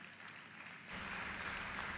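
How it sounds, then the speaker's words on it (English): An audience at a finance conference in Nigeria applauds as the Netherlands Consul General takes the stage. A soft murmur swells into steady, fairly loud clapping about halfway through and carries on to the end. "please give him a round of applause"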